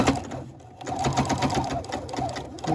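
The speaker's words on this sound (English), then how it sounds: "I'm going to add one more row of sewing between my stitch line and the end of the fabric" Sewing machine running a back-stitched row through the many fabric layers of a filtered face mask, a close, fast needle chatter that briefly slows and resumes.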